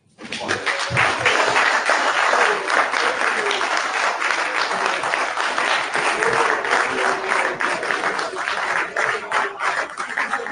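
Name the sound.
applause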